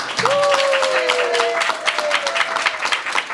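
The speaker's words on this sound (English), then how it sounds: "Nichelle, clap for Nichelle" Audience applause at a book launch celebration, a broad wash of clapping from a crowd, with a sustained tone sounding over it early on.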